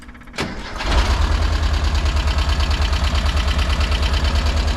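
The air-cooled engine of a 1972 VW panel bus, running slightly rough after a towing incident, cranks briefly, catches and settles into a loud, steady, pulsing idle close by, with no voices.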